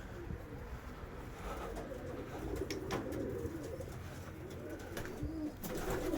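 Pigeons coo at a pigeon loft, soft repeated throaty calls rising and falling over a low outdoor background, fairly near and continuous.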